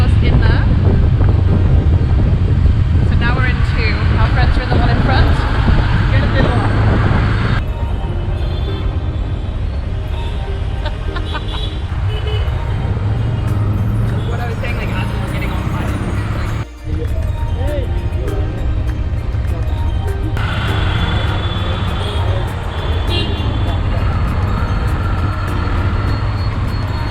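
Auto rickshaw ride through busy Bangalore traffic, with steady loud engine drone, rushing wind against the microphone and surrounding vehicle noise running continuously throughout.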